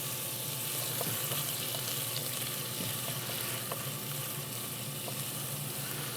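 Garlic and ginger sizzle steadily in melted butter in a pan, a close, even hiss with a few light clicks of stirring and no talking.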